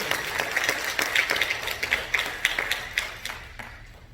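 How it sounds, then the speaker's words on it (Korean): A church congregation at a Korean Sunday service claps, with soft crowd applause and rhythmic hand claps that rise and then taper off in a reverberant hall. "박수 한번 쳐주세요."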